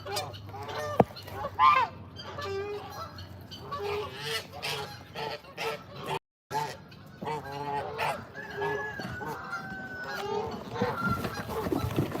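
Geese and other fowl honk and call repeatedly at close range while being fed fresh greens from a wheelbarrow, with busy clucking and rustling throughout.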